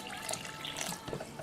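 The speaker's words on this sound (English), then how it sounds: "It's time to add some water." Water pours into a homemade slime mixture, a steady close splashing trickle like a running tap that lasts the whole moment with no talk over it.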